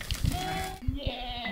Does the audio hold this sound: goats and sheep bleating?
yes